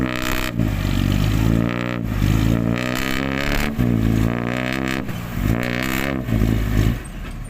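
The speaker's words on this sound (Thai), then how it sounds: "ครับ คือรถไถเน" A walking tractor stuck in deep field mud, its engine revving hard in repeated surges and easing between them, loud and close, with scraping and clattering as it claws at the ground.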